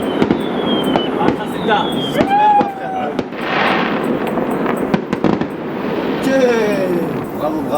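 Fireworks burst and crackle at close range, with whistling rockets rising and sharp pops repeating over several seconds while people talk over them.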